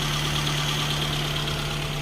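Mitsubishi 4G15 car engine idling after oxygen sensor work, a steady mid-pitched hum with an even low drone, close and continuous.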